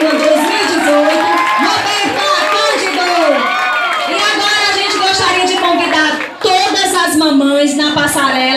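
A large crowd at a maternity beauty pageant cheers, whoops and shouts loudly and continuously, with excited voices and children calling out, a steady roar that dips briefly before surging again.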